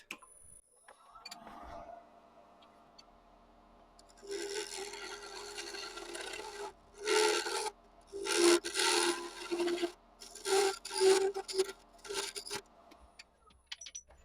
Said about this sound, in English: I'll take very slow passes into it, just like I was machining metal on a metal lathe.